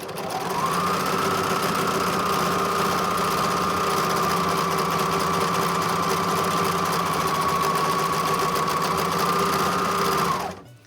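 Juki sewing machine stitching a pleated fabric mask, a steady loud whirring hum that runs continuously for about ten seconds, then stops abruptly.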